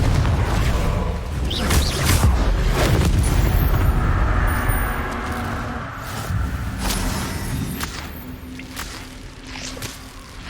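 The Confringo blasting curse from the video game Hogwarts Legacy sets off heavy booming explosions in combat, several deep rumbling blasts and sharp cracks that overlap, then fade into a quieter rumble.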